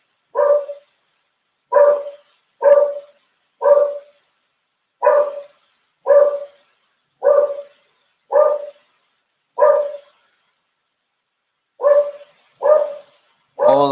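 A neighbor's dog barks outside in a steady series of about a dozen separate barks with short gaps, clear and fairly loud with nothing else around them.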